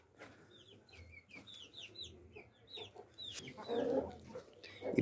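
Hens and small chicks being fed corn cluck and peep close by, quick high chirps over lower clucks, with scuffling and pecking growing busier toward the end.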